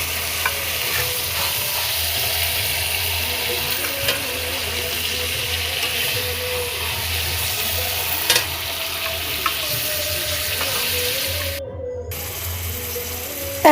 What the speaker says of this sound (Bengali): এ দেখো পাশের গ্যাসে আমি চিকেন রান্না করছি।